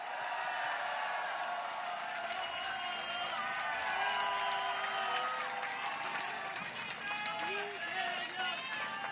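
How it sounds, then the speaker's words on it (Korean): Applause from a crowd at a Korean Democratic Party political rally, steady clapping with some cheering throughout, fairly distant. "박수 한번 부탁드립니다"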